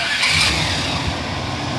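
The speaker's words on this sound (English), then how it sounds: "turn on the truck." A truck engine turns over and runs during a vehicle checkout, a steady mid-range rumble with a brief louder surge near the start, close and continuous with no talking.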